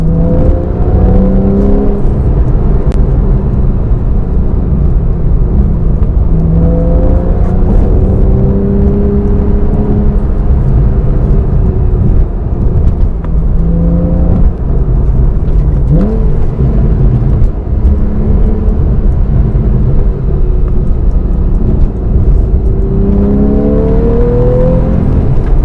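Steady in-cabin engine and road noise from a Porsche 911 991.1 Carrera S on Michelin PS4S tires, a loud continuous drone with rising and falling revs as it accelerates and shifts.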